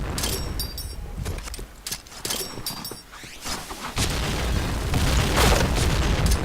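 Grenade blasts and gunfire in a shooter video game, with several sharp bursts and booms early on and then a louder, sustained rumble of explosions toward the end.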